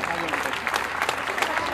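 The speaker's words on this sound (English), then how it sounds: "The winners deserve a loud roll of applause" At a school annual day in Dwarka, an audience applauds yoga championship winners with a brief, steady burst of many hands clapping, fairly loud and continuous throughout.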